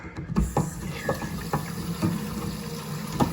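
Water runs from a tap into a plumbing fitting during a seal test, a steady splashing flow with a few small knocks of the fitting, close and moderately loud with no talk.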